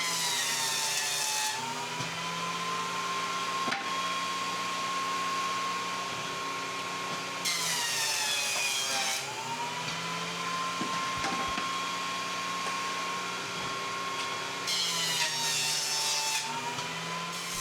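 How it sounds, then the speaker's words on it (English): Jointer planing the faces of 2x4 lumber, a steady high whine from the cutter head with three louder passes as boards feed through, close and continuous, no talk. "Next on the joiner, I get two faces square to each other"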